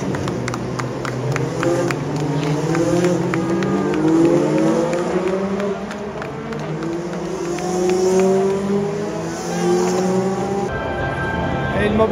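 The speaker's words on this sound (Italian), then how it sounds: "le macchine stanno arrivando alle curve forte, l'ultima chicane" Several race car engines whine past at rising and falling pitch toward the last chicane at Le Mans, overlapping one another from a distance over steady background noise, with no talking.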